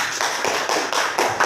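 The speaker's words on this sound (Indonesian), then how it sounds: "Sekali lagi tepuk tangan." Audience clapping for two teachers at a school dissemination session, a dense run of hand claps lasting about a second and a half with small rises in level, and no voices over it.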